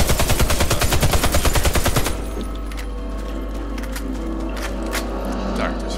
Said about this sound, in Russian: Мы опять взяли наш пулемет